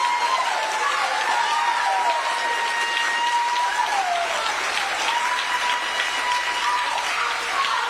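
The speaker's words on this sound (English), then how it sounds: "Standing ovations" An audience gives a standing ovation, a steady, dense roar of clapping throughout, with a voice talking over it.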